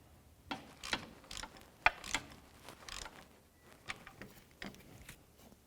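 A hand ratchet clicks in short, quiet bursts while a starter nut is tightened on a 2000-2005 Buick LeSabre, with scattered light metallic knocks and creaks in between.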